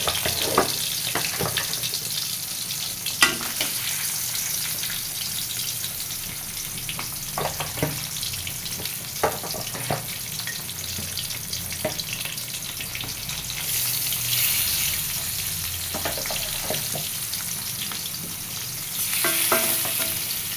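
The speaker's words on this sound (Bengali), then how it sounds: "মাছগুলো দিলাম, এবার মাছগুলো ভাজা হোক।" Tilapia fish frying in oil in a pan, a steady loud sizzle lasting throughout with occasional spatters and clinks, no voices.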